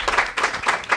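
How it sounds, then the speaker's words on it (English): A brief patter of audience applause rises and falls in a few quick swells at a panel discussion on broadband adoption. "Give him a round of applause."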